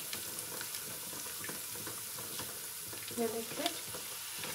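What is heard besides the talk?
ground tomato added to hot pan, frying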